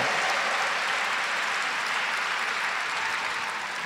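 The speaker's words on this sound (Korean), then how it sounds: "박수 쳐. 빨리 박수 쳐." Congregation applauding in a large church service held in a sports gymnasium, a steady dense wash of clapping throughout, fairly even and sustained with no voices on top.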